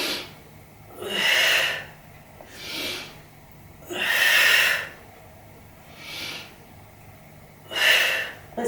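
Slow, deep breathing during a stretch in a total body workout, five audible in-and-out breaths spaced a couple of seconds apart, close and airy, alone without talk.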